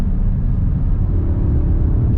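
A 2022 Audi S3 sedan with a 7-speed DCT and Quattro drive brakes and downshifts, a loud steady low engine drone and road rumble heard close, with no clear individual shift blips.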